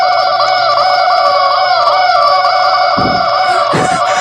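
Chicken-like clucks play as footsteps in a hide-and-seek video game, a steady stream of fowl and gobbling calls over constant game music, loud and continuous.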